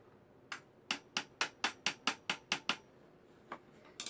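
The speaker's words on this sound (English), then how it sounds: "So if you have a hammer, you can use a hammer." A hammer taps shoe rack pieces during assembly: about nine sharp, evenly spaced knocks in quick succession, then a pause and a few more taps, close and clear over a quiet room.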